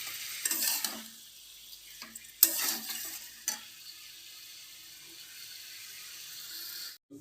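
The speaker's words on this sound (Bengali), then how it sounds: "আরও 2-3 মিনিট আমি কষিয়ে নেব।" Spices with turmeric sautéing in a pan, a quiet even sizzle with a few brief stirring scrapes near the start, otherwise steady and alone.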